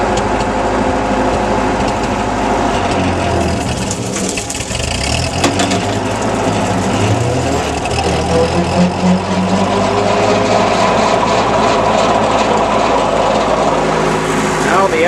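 A Ford 9N tractor engine running steadily with its PTO-driven implement engaged, a loud continuous mechanical drone and rattle, with someone talking over it.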